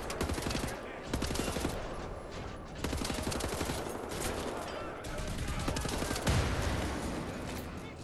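Rapid automatic gunfire in the video game Wolfenstein: The New Order, dense bursts of shots rattling on loudly for several seconds with a brief voice beneath.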